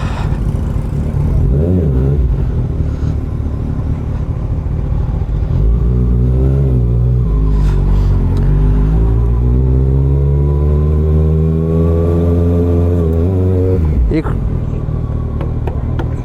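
A motorcycle engine on a ride toward Lonavala rumbles steadily, then revs up and pulls away, its rising roar loud and close before cutting off sharply near the end.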